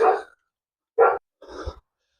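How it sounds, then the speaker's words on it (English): Three separate dog barks with short pauses between them, fairly close and clear against an otherwise quiet background. "Dogs are barking."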